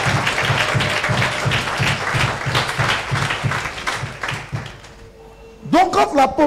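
Church congregation applauding together in a worship service, steady rhythmic clapping with a low pulsing beat for several seconds, then fading out before a brief burst of voices and music at the end.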